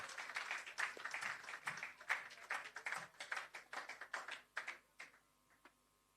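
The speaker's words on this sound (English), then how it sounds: "Give him a round of applause as well, ladies and gentlemen" Applause from an audience at a handover ceremony for a shelter recovery programme, a patter of claps that thins out toward the end, fairly quiet and heard without any voices.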